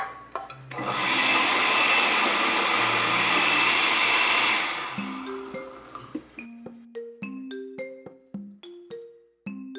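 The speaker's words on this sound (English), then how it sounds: "I'll blend my tomatoes, onions, and habaneros." Blender whirring at full speed through tomatoes, onions and habaneros, a loud close motor whine for about four seconds before it stops, followed by light tapping and soft musical notes.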